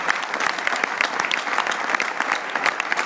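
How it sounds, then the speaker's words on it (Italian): A political rally crowd claps for Salvini, many distinct hand claps forming a lively, crackling ovation that holds steady at moderate volume throughout, heard alone. "dovete glielo dare stasera a Salvini con un bel applauso"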